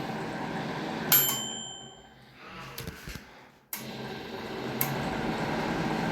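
A homemade microwave oven built from scrap metal switched on and running: a steady, even electrical hum with a sharp ding-like click near the start and a brief drop-out partway through, with no talking.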